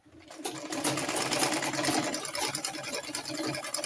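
Sewing machine stitching a smocking waist A-line dress, running steadily and continuously at close range with a dense mechanical whir and rapid needle clatter, no talking.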